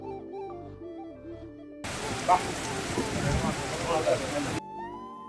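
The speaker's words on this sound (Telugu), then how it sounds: "అప్పుడే సడన్ గా వర్షం అయితే పడింది." A sudden burst of rain in green Kerala countryside patters steadily on surfaces as a dense hiss for a few seconds. Music plays before and after the rain and stops while it falls.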